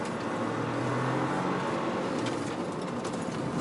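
Proton S70 car driving an extra lap, a steady, loud engine and road roar with wind noise, constant throughout, and no talking.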